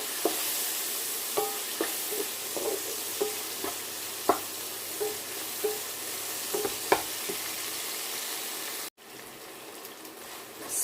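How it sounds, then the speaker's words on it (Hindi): Chicken with spices and white pepper is stirred in a hot pan, with a faint continuous sizzle and a regular series of soft spatula scrapes, then a brief cut and quieter sizzle. "ये डाल के इसको करते हैं थोड़ा सा मिक्स"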